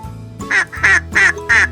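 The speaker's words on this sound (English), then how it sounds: "D is for duck." Four evenly spaced, loud duck quacks ring out close and clear over a soft musical backing, each a short nasal burst.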